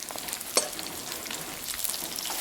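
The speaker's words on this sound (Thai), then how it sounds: "ข้าวทอดให้เหลืองก่อนค่อยเอาไข่มาลง" Grilled sticky rice fries in a pan with only salt and seasoning, browning before egg goes in. The close, constant sizzle crackles throughout, with a light scrape of stirring.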